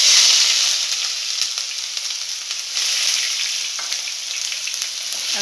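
Ginger garlic paste frying in a pan for a coconut-based chickpea curry, with a loud, steady sizzle and hiss and occasional stirring scrapes.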